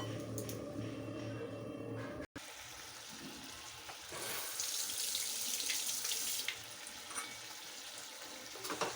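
Water pours steadily into a pan of fried-down masala in a home kitchen, a continuous splashing rush that briefly cuts out and then resumes with sizzling, bubbling texture, close and fairly loud.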